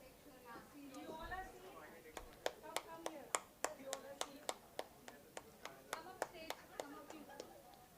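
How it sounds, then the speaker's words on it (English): A school audience at a career guidance program claps in a steady, regular beat, each clap sharp and distinct, after a voice speaks briefly at the start. "Can we have the claps going?"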